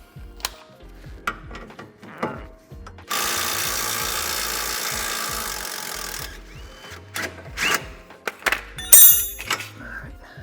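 An 18 wrench and a 17 socket work a bolt loose on an Acura RSX during an air ride installation: scattered metallic clicks and thunks around a few seconds of steady, grinding mechanical noise.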